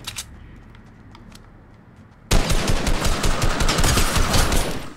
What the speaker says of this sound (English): Shit, I'm getting shot, I'm getting shot.